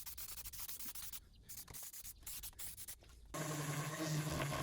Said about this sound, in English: I give the tabletop a good sanding to get it nice and smooth